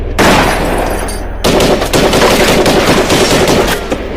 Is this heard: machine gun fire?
yes